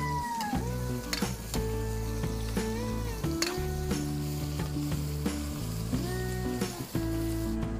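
Onion and chorizo de Bilbao sizzle and fry steadily in a pan, with spoon scrapes and stirring clatter on top.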